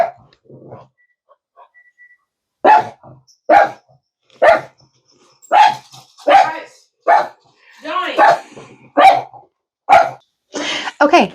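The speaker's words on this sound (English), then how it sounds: "My dogs have decided to come in here" Dogs in a home bark in a quick series of sharp, loud yips and barks close by, with a few whistle-like yelps mixed in, starting after a quieter moment.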